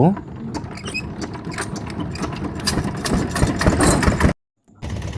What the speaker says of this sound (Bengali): এখন ইঞ্জিন চালিত একটি নৌকায় উঠলাম এই ঘাটটি পার হব